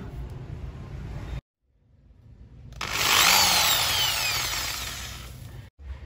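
A power drill bores into a ceramic-tiled brick wall, a loud whining grind after a brief quiet pause, then cutting off abruptly.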